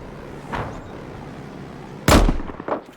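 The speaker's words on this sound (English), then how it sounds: "That sniper rifle sounds so good." A sniper rifle in the Battlefield video game cracks once, loud and sharp, with a rumbling tail, while fainter distant shots sound just before and after.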